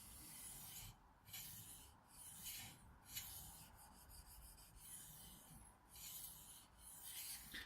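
A knife being sharpened on a smooth 1000 grit whetstone: quiet, rhythmic scraping strokes, roughly one per second, with a gritty back-and-forth rasp close at hand.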